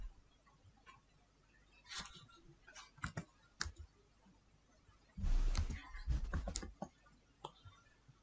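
A few scattered mouse clicks and light key taps on a Windows computer sound close and sparse, followed by a louder rustling burst of handling noise; no speech.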